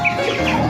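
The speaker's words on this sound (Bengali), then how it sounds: "মুরগি আছে" Chickens cluck at a cattle farm in Bangladesh, a short burst of close, clear clucking calls with no one talking.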